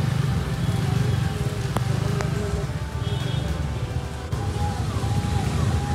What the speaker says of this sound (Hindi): देखो बारिश आ रहा है